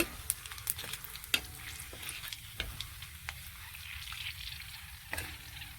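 A ground paste of tomato, ginger, garlic and onion going into a hot frying pan, a soft steady sizzle with scattered small clinks and stirring taps, faint and close, no talking.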